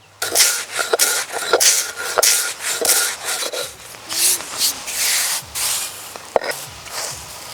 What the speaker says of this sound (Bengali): বাকি মুড়িগুলো আমি এভাবে বেটে নেব। মুড়িটা একটু এভাবে দানা দানা রেখে বাটতে হবে,